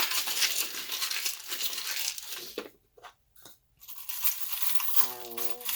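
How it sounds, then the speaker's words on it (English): A box of charms being shuffled, giving loud, dense rattling and clinking for several seconds with brief pauses, then a short vocal sound near the end. "I'm about to shuffle my charm box. You may want to turn the volume down. It's kind of loud"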